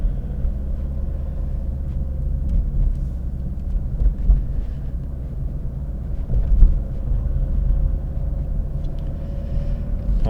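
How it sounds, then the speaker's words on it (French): A Peugeot car cruising on a main road at around 90 km/h and pulling out to overtake, heard from inside as a steady low engine and road rumble with slight swells, no talking. "Une grande route, on peut aller à 90. Hop, je vais dépasser."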